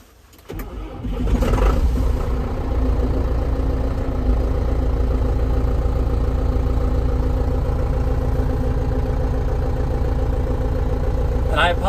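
A John Deere 6310 tractor's diesel engine cranks and catches, then settles into a steady, loud, rumbling idle with a rattling throb.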